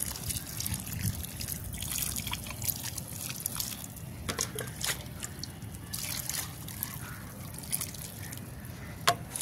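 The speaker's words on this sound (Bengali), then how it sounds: "চলো এবার কাজ হচ্ছে এটাকে জল দিয়ে একদম কাদা কাদা করে দেবো।" Water trickling and dribbling into old potting soil, wetting it down to mud, a steady close liquid pour with occasional soft drips and splashes, no talking.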